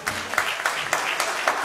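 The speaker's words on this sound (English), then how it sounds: "Give God a hand clap of praise." Church congregation giving a hand clap of praise, several rhythmic claps over a busy room background, fairly close and brief.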